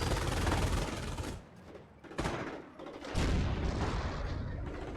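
Dense gunfire and mortar blasts fill a video game battle, a rolling barrage of loud bursts that dips briefly before crashing back in, heavy and continuous with no talk over it.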